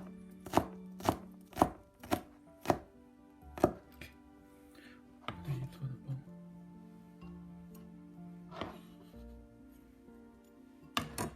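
Knife chopping garlic on a board, a quick run of crisp, close strikes, then a pause with softer scraping and a few scattered chops before one last cluster of cuts.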